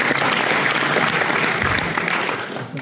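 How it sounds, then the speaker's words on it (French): Dense, sustained applause from a gala audience at a motorcycle festival event, loud and continuous with a crowd-filled texture, tapering slightly toward the end. "monsieur Olivier Boldo, qu'on applaudit très très fort"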